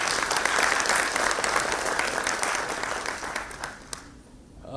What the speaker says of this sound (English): let's give a clap to both of them.